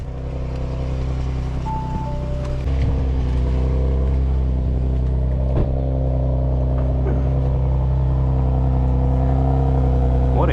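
Audi RS5 running on its stock exhaust after a cold start, a steady deep engine drone that holds near and loud throughout with a few brief rises in revs and no talking.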